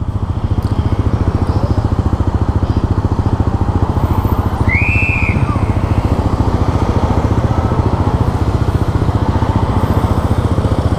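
A loud motorcycle engine without a dB killer drones steadily throughout, close and constant, with a brief whistle-like tone partway through.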